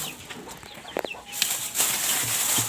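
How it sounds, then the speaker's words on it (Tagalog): A pet chicken clucks in a few short, close calls, with a brief flutter or scuffle partway through over a steady background hiss. "Ayun, malaki na yung manok natin"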